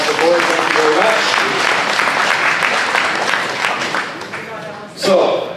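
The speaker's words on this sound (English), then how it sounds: "Let's give a round of applause for the members of the board." An audience at a Calgary Greenway by-election candidates' debate applauds the board members, dense continuous clapping that tapers off, followed by a brief louder burst.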